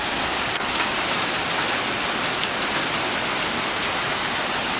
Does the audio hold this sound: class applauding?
no